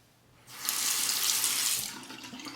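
Water from a tap runs steadily for over a second to rinse a LEA travel electric shaver's pivoting flex head, a close, hissing splash that swells in and then tapers off, with no talking.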